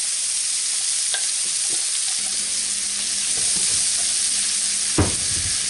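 Celery sizzling in melted butter for a seafood bisque, a steady bright frying hiss with a few scrapes and taps of stirring and a sharp clack near the end.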